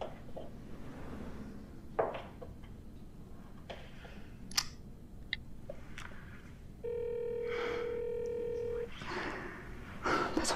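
A mobile phone call rings unanswered, its electronic ring tone sounding in a steady two-second burst amid quiet indoor clicks and rustles, with a few soft sounds around it.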